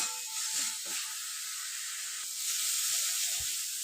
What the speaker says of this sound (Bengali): লঙ্কা গুঁড়ো, মশলাটাকে আরও 2 মিনিট ভালোভাবে কষিয়ে নেব।